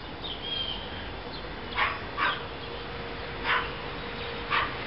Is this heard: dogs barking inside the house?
yes